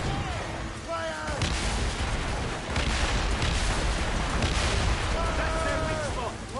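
Cannon fire booms through a naval battle in Assassin's Creed Rogue, a dense, loud roll of heavy blasts over water with crew voices shouting over it.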